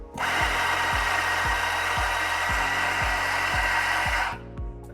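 ZF83 stepless espresso grinder with 83 mm DLC burrs grinding coffee beans for a double shot: a loud, steady whirring grind for about four seconds with rhythmic low knocks, then it stops abruptly.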